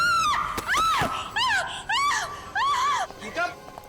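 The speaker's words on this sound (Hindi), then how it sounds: "क्यों चिल्ला रही हो?" A woman screams in a dramatic crime-drama scene, letting out several sharp, rising and falling shrieks in quick succession. The cries are loud and close, with brief gaps between them.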